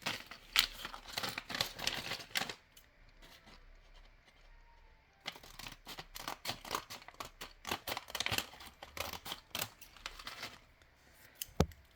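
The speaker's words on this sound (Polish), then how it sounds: "Zaraz ją otworzę, tylko potrzebuję nożyczek." Scissors snip and rustle through packaging in two bursts of rapid clipping and crinkling, separated by a brief quiet pause.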